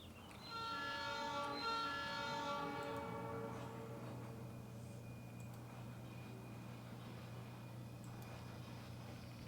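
A train rolls slowly past, its multi-tone horn sounding loud for about three seconds, then a steady low rumble of the running train continues alone with a faint high whine.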